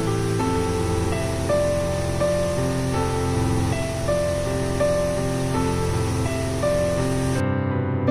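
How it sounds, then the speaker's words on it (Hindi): River water of the Ken river pours steadily over the rocks at Raneh Falls during the rainy season, a loud, continuous roar of rushing flow with no pauses, close and dense throughout. "इसका फ्लो देखिए, पानी का फ्लो से आपको समझ में आ रहा होगा।"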